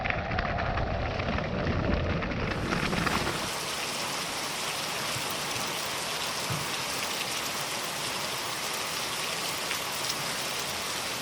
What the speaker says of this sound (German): Da warten wir jetzt ein bisschen den Regen ab.